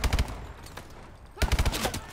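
Bursts of rapid automatic gunfire from the futuristic shooter Call of Duty Advanced Warfare, a short volley followed by a pause and then a second burst, loud and close with no talking.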